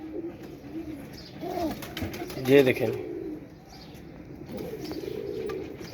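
Soft, low pigeon cooing in short rolling phrases close by, mixed with someone speaking briefly.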